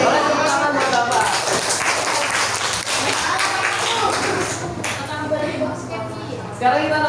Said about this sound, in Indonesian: Boleh tepuk tangan buat Bapak.